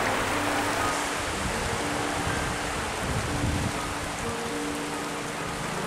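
Steady rain falls by a lakeshore, a dense and even hiss of drops on the water and the ground that stays close and constant, with no voices.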